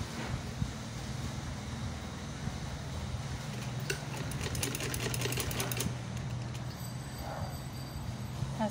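A sewing machine stitching a trouser design runs as a steady, fairly quiet mechanical hum with a fast regular rattle, continuous throughout the clip.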